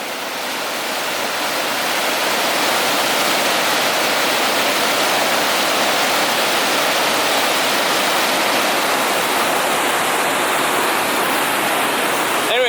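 River water rushes over a standing wave in a loud, continuous roar that builds in the first couple of seconds and then holds steady and close throughout.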